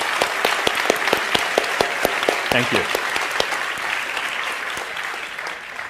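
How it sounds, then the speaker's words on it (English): Audience applause for translators at the Eurobuzz 2014 event, a dense roomful of clapping with distinct individual claps, steady then gradually thinning toward the end, while someone briefly speaks over it. "could you join me in a round of applause?"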